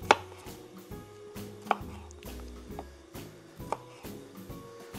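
A knife chops a yellow bell pepper on a cutting board, with a steady series of close, crisp knocks at an even rhythm and no talk over it.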